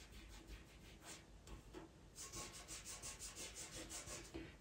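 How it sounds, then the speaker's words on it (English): Black drawing medium being rubbed gently into a drawing by hand, a soft, close, steady scrubbing that quickens into a rhythmic series of short strokes in the second half. "Just rub that black in there a bit."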